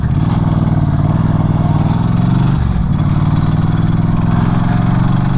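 A Norton Commando 961 SP motorcycle engine runs loud and close, a steady throbbing rumble with a fast, even pulse that holds throughout without talk.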